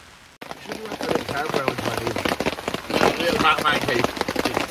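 Steady outdoor rain patters and crackles onto tarps, dense and fairly close, beginning abruptly and continuing as a constant wash of small drops.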